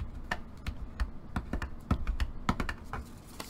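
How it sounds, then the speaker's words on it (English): Paper for a mini album is folded over and burnished in a dry room, giving a quiet run of short crisp taps and rubs at a steady, uneven rhythm, close by and alone. "we are going to go ahead and fold over our paper and burnish"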